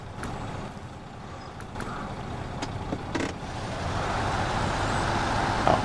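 A truck engine in the video game SnowRunner during a pier recovery, a low steady rumble that builds gradually, with faint clicks and a brief hiss, no talk.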